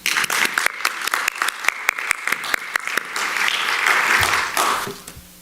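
A lecture audience applauding as a speaker is welcomed to the podium, a burst of close, sharp claps that swells into full applause and then fades out.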